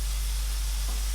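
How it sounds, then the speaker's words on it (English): One kilo of minced beef browns in a frying pan, giving off a brief, steady sizzling hiss for about a second, close and alone with no voices. "The beef needs to be browned in the frying pan before we add any liquid."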